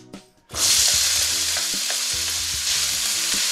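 Ginger dropped into hot oil in a pan bursts into a loud, steady sizzle right after a brief quiet moment, with occasional soft stirring knocks, close and continuous.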